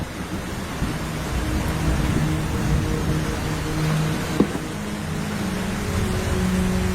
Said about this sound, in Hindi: पिछले 7 दिनों से जंगल में बहुत तेज बारिश हो रही है।